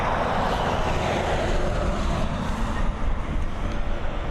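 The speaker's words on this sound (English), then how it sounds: "A nice 737 MAX taxiing on by" Ryanair Boeing 737 MAX taxiing near runway 10R at Dublin International Airport, a steady, broad jet-engine rumble and whine holding at a constant loudness throughout, fairly close, with no voices.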